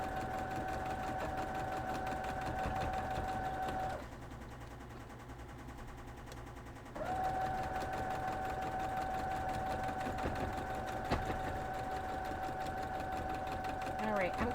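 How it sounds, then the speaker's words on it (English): A sewing machine stitches a quilt block with a fast, steady mechanical hum, stopping briefly for about three seconds before resuming at the same pace; a voice talks over part of it. "I'm going to sew up another one of those blocks"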